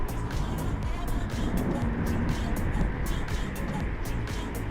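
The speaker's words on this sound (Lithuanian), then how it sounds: "Beveik 3 valandas važiuoju." Steady road and engine rumble from a car on a long highway drive between Kaunas and Norway, with continuous tyre noise and faint rhythmic ticks, loud and constant throughout.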